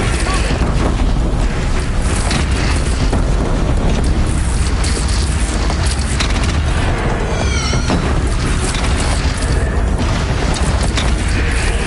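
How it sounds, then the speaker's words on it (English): A Deathbringer machine firing in Horizon Zero Dawn The Frozen Wilds, a loud, continuous barrage of booming blasts and explosions with mechanical clatter, dense and unbroken throughout. "Deathbringer fire!"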